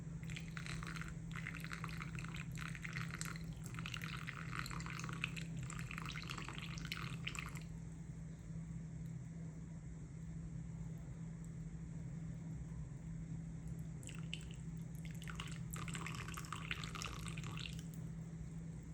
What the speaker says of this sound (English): you start pouring this, and you pour and pour until you cover the top of the lid